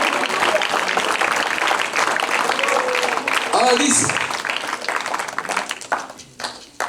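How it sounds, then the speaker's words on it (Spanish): A church congregation claps loudly for the Lord during a Spanish-language service, sustained applause mixed with voices and a preacher speaking over it, thinning toward the end. "Un aplauso fuerte al Señor con todo su corazón."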